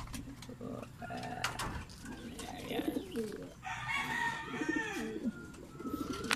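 Racing pigeons coo repeatedly in soft, throaty warbles, close by, with other bird chirps and faint background voices mixed in.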